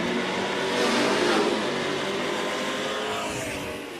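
A Camaro with hockey stripes accelerating hard down a drag strip at a street racing event, a loud roaring engine that swells and then gradually fades as it pulls away.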